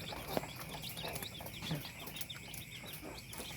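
Faint clucks and short calls from white Rhode Island chickens at a poultry farm in San Manuel, Pangasinan, scattered over a quiet, steady background.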